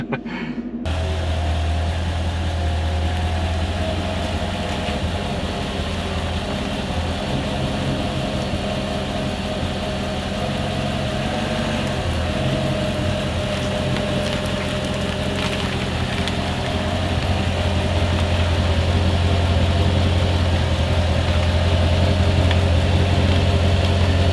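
A Mercedes C55 AMG engine idles steadily for a long stretch while warming up, a low constant rumble with a faint hum, no talking.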